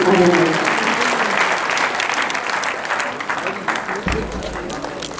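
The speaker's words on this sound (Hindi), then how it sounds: "तालियों से स्वागत करें।" Audience applause welcoming a speaker at an education-institution event in Darbhanga, Bihar: dense, steady clapping from a large crowd that starts loud and slowly thins, with a voice briefly audible near the end.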